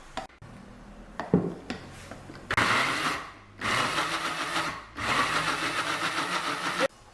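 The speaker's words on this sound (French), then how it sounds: "là je préférais utiliser mon blender à sec" A blender dry-grinds coconut in two loud sustained runs, each a coarse motor roar that starts abruptly and stops, with a short pause and clattering between them.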